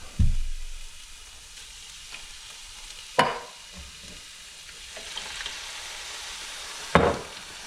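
Sauce poured into browned hamburger chili with onions, garlic and spices sizzles in a pan, a steady frying hiss broken by a few sharp knocks of a spoon or utensil against the pan.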